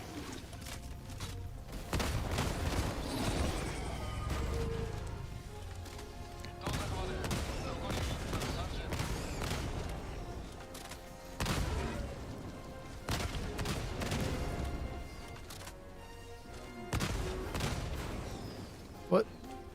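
Gunshots in a shooter video game ring out as scattered sharp cracks and bursts spread across the stretch, some clustered, mixed with background game sounds and occasional talk.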